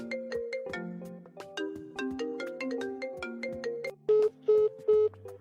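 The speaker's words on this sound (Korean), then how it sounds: "친구한테 전화 온다" A phone ringtone plays for an incoming call from a friend, a bright melodic tune of tonal notes over several seconds, ending in three short repeated beeps, clear and close with no talking.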